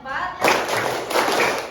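A classroom of students claps hands together in a counted sequence, a couple of broad, roomy bursts following a brief spoken prompt.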